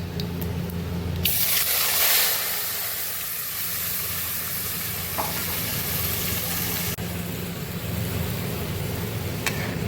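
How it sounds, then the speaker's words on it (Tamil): Goat intestine drops into a hot pan of oil with fennel seeds and sputters into a loud hissing sizzle, then settles into a steady crackling fry. The sound is close and continuous, with no voices. "இப்போ இது கூட நம்ம எடுத்து வச்சிருக்கிற இந்த குடலை ஆட் பண்ணுறோம்"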